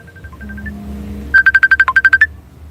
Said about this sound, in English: Dang, I got a phone call.